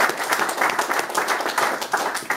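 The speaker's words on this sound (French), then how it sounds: "Alors moi, je vous applaudis." Applause from an audience at a ceremony in Furiani, with steady broadband clapping for a couple of seconds and no talk.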